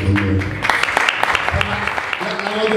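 An audience at a book presentation in Caffè Gambrinus, Naples, claps in a dense burst of applause while a voice talks over it, the clapping steady and fairly loud throughout.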